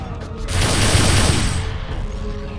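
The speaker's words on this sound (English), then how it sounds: "Say hello to the TWX-59 Tesla cannon, the 4th generation of a now 100-year-old design." A TWX-59 Tesla cannon, a fourth-generation weapon in the game Blood II: The Chosen, fires a sustained crackling electric burst that swells and then trails off over a couple of seconds, loud and close, with no talking.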